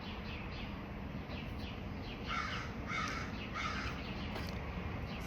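A crow caws in a short series of harsh calls at a moderate distance over steady outdoor background noise, the caws coming in two or three bursts.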